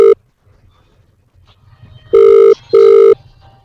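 A telephone rings loudly and close by, giving two clear tonal bursts of about half a second each after a short earlier chirp, with faint low rumble in the gaps.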